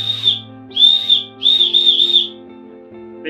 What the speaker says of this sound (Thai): เป็นนกหวีดติดมาอยู่กับสายเลย